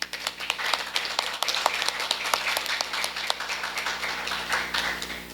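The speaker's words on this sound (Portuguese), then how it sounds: "na pessoa do vereador Osmar, eu queria pedir uma salva de palmas para todos vocês" A small crowd at a city council meeting applauds with steady, evenly paced clapping that carries on throughout.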